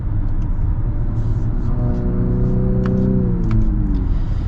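A 2024 Infiniti QX50 Autograph with a CVT in manual sport mode, heard as a steady engine drone inside the cabin, the pitch stepping up and down with simulated shifts over a constant low rumble.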